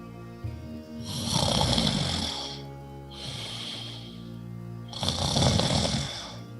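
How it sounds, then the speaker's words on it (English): Three long, rasping snores follow one another slowly, each a deep rattling breath with quiet pauses between, heard up close. "Sounds like snoring."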